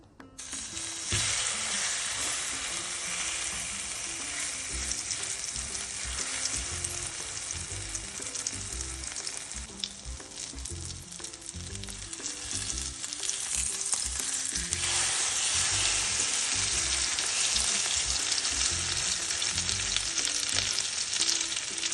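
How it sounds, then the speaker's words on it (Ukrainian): Loud, steady sizzling of zucchini frying in plenty of hot sunflower oil, continuous throughout with occasional stirring scrapes. "Розігріваємо сковорідку, додаємо туди чимало соняшникової олії і будемо смажити."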